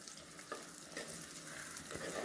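Small shallots sautéing for ivy gourd curry, a steady close sizzle of frying in a pan with stirring scrapes, quiet and continuous with no voices.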